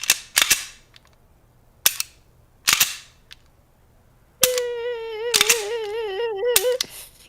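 Empty gun dry-firing during a stream: several sharp, isolated mechanical clicks and snaps spaced irregularly, loud and close, later overlapped by a steady wavering synthetic tone.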